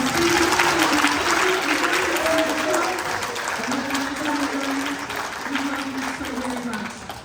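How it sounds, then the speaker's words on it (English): Warm applause from an audience at a benefit event, many hands clapping continuously and gradually softening, while a voice talks over it. "Give yourselves all a round of applause for being here."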